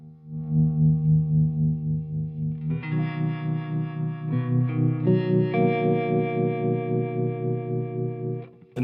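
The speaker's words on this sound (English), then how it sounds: "Walrus Monument V2 in the harmonic tremolo setting." A Squier Classic Vibe 50's Stratocaster plays sustained, distorted chords through a Walrus Monument V2 pedal set to harmonic tremolo, giving a loud, steady, pulsing wash with a few chord changes and no talk.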